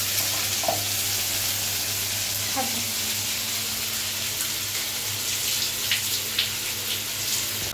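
Tel koi fish fry in plenty of oil in a home kitchen, giving a steady bright sizzle with a low hum underneath and a few faint clinks, continuous and close.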